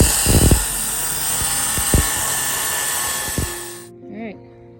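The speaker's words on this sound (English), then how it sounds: "so now we're going to cut this greenhouse plastic" A power tool cuts through a sheet of multi-wall polycarbonate greenhouse plastic with a steady, high-pitched whine that holds for about four seconds and then stops abruptly. Brief clunks punctuate the cut, and faint voices follow once it ends.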